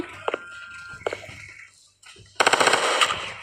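Gunfire rings out in a Roblox shooting game, with two sharp single shots, a short lull, then a loud sustained rapid-fire burst.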